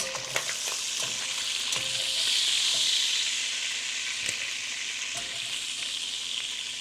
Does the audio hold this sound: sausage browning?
yes